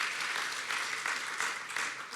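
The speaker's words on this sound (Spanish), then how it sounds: "Come on, clap" A church congregation claps together for several seconds, a dense, even wash of applause at moderate distance with no pauses.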